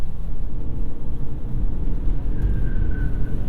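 A 2022 Ford Maverick with a 2.5-liter hybrid powertrain accelerating out of a corner, a steady low engine and road rumble heard from inside the cabin with a faint rising whine.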